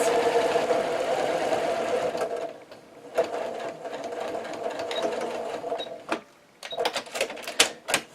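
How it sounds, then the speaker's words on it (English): A sewing machine stitches along a line on fabric placemats, its steady motor whir running nearly continuously with a brief pause, then resuming in short bursts near the end; close and fairly loud, no talking. "I think this machine would walk for days."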